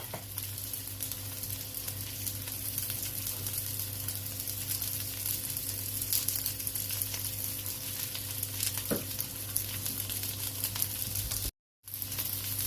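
Green beans fry in a hot paella pan, giving a steady, even sizzle that carries on close and at a moderate level, with a brief cutout near the end and no talking.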